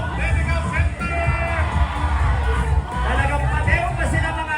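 Crowd noise at a Pasig Day civic parade: steady, loud street hubbub with yelling and whoops running throughout, layered over other sounds.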